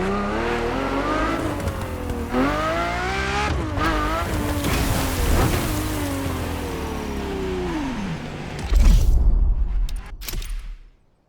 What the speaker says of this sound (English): The car you're about to drive in this opening event is none other than the first Ferrari in the supercar bloodline, the Ferrari GTO.